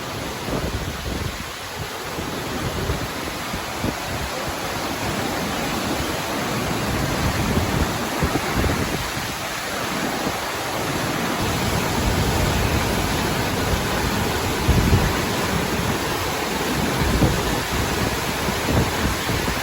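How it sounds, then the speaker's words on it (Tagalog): Heavy typhoon rain pours steadily during Typhoon Carina, a loud, dense wash of noise with no break, swelling slightly stronger partway through. "Lakas ng ulan."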